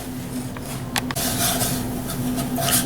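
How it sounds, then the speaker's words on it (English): Breadcrumbs frying and being stirred in a pan for a chicken cordon bleu Florentine casserole, giving a steady sizzle with metal utensil scrapes and clinks against the pan. "Gotta fry these breadcrumbs."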